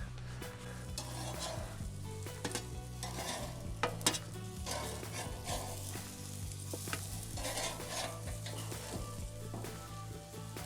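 Chopped onion sizzles and crackles steadily in a hot pan, with occasional stirring clinks and scrapes over a continuous frying hiss, close up and moderately loud.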